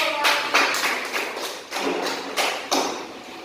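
Elementary classroom students clap their hands together in a series of uneven bursts, close and moderately loud, with rhythmic pulses rising and falling.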